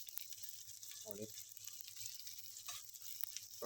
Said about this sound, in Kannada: ನೋಡಿ ಈರುಳ್ಳಿ ಹಾಕಿ ಸ್ವಲ್ಪ ಫ್ರೈ ಮಾಡಬೇಕಾಯ್ತಾ, ಚೆನ್ನಾಗಿ ಫ್ರೈ ಮಾಡಿ ಸ್ವಲ್ಪ